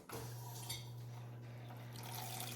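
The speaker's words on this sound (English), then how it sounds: "We do have to wait for the water filter to fill" Water running through the supply line into a GE refrigerator's water filter, a quiet, steady trickle with a constant low hum underneath and no talk.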